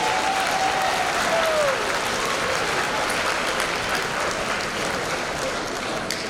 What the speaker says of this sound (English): One more round of applause for all of our new faculty.